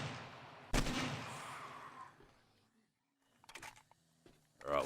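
A sharp, loud gunshot with a fading echo in the video game 7 Days To Die, followed by quieter clicks and handling noises, with a voice briefly heard at the end.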